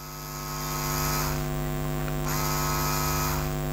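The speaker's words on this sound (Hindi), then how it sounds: "ये नीडल की आवाज़ है। ये नीडल जब प्लास्टिक को थोड़ा टच करता है तो आवाज़ आता है।" A Katana pen tattoo machine runs with its needle touching plastic, giving a steady, close, loud electric buzz and hum that shifts slightly in tone twice, with no talk.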